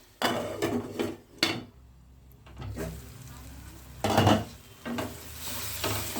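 Softened tomatoes stirred in a pan for pav bhaji, giving several bursts of scraping and clanking with a faint sizzle between them, close by and moderately loud.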